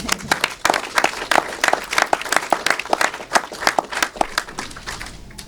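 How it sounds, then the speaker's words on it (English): Audience at a panel discussion on the Battle of Okinawa breaks into applause, a dense run of many hands clapping at moderate volume that thins out toward the end. "Everyone, please give a round of applause."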